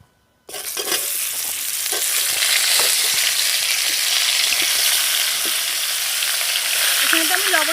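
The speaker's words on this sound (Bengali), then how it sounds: "এখন এই মাছ ভাজা তেলের মধ্যে আলু ফুলকপিটাকেও ভেজে নেব।" Potatoes and cauliflower frying in oil left over from frying fish: a loud, dense sizzle that bursts in abruptly and stays steady and close, with faint stirring underneath.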